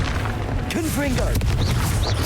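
A Confringo blasting spell goes off in Hogwarts Legacy, a booming blast among sharp magical whooshes and pops in busy combat, with a voice talking over it.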